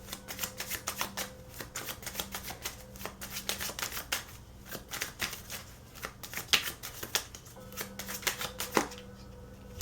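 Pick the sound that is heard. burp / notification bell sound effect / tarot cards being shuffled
tarot cards being shuffled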